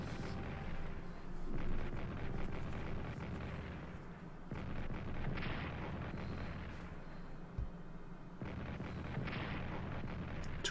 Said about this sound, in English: The artillery in El Arish is firing in Gaza.